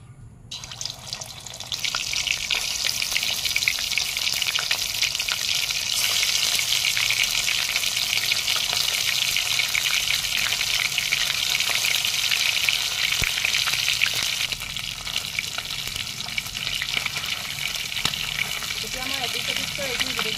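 Chicken pieces sizzle loudly in hot mustard oil in a wok for a chicken dish with coriander flowers, a steady dense frying hiss that holds throughout with occasional stirring clatter.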